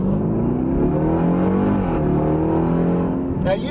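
A supercharged 2018 Jeep Grand Cherokee Trackhawk with 707 horsepower accelerates hard, its engine note climbing loudly and continuously in close, rising sweeps with a supercharger whine.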